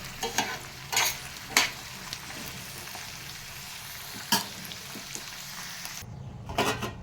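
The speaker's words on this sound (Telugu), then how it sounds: "ఈ వేగేలోపు మనకి అవి కూడా వేగిపోతాయి, శుభ్రంగా చక్కగా వేగుతాయి" Cluster beans frying in a pan for a tomato curry, a steady close sizzle with several sharp stirring scrapes and clatters of a utensil against the pan.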